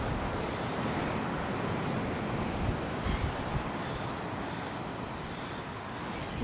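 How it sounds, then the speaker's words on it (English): Strong, chilly wind on a UK coastline during a winter storm, a continuous heavy roar buffeting the microphone with low rumbling gusts and no talk. "Very windy out here."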